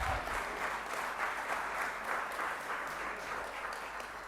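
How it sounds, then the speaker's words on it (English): Audience applauding at a Somali Independence lighting ceremony, steady sustained clapping from a sizable crowd, fairly close and even throughout. "You can clap for that."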